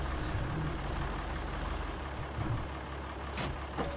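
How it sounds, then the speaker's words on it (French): A tractor engine in Farming Simulator 19 rumbles steadily at close range, a low, even drone that dips and shifts slightly near the midpoint, with a couple of short sharp noises near the end. "J'adore le bruit de ce tracteur là."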